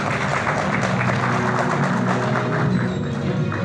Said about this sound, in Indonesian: Tepuk tangan untuk Budiman Sujatmiko.